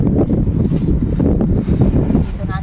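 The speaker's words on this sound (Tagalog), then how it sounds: "Malakas kasi ang hangin dito." Strong wind buffets the microphone in heavy, rumbling gusts, with a voice speaking underneath the blustery noise.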